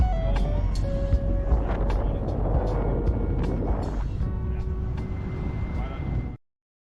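Steady low road rumble fills a car cabin while driving around Negril, a constant drone under voices speaking, until it cuts off abruptly near the end.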